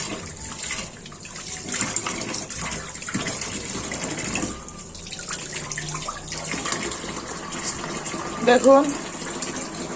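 Water runs and splashes as tilapia fish are washed by hand, a steady faucet-like gush with sloshing and rustling, close by, while someone speaks briefly.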